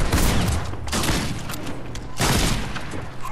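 Gunfire from the video game Fortnite with a sniper in play: a few loud, broadband shot bursts with a longer rattling stretch between them, close and dense, with no talk over it.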